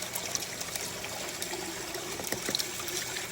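Water from a 2000 GPH pump runs through a 6-inch header box and adjustable DeWalt adapter into a small backpacking trek sluice, giving a steady, close trickle and splash with no pauses.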